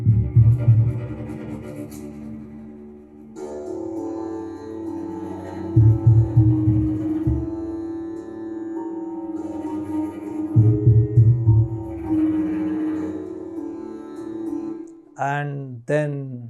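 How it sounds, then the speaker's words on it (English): Game score for Kurukshetra: Ascension layering crackling strings, bowed strings, synth bass and Indian sitar, a steady droning bed with rhythmic low pulses recurring every few seconds, then a brief plucked sitar-like flourish near the end. "the crackling strings, the bowed strings, the synth bass, and the Indian sitar, it sounds like this"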